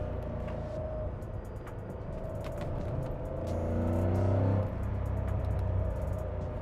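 A Porsche 928 GT engine drones steadily while driving, its pitch climbing into a louder, rising rev near the middle before easing back to a steady pull.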